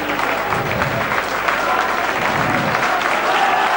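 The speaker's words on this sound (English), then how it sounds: "The round of applause there for the Saints coach Alec Murphy." A rugby league stadium crowd at a St Helens versus Oldham match applauds the Saints coach, a dense, continuous wash of distant clapping and crowd noise filling the whole moment.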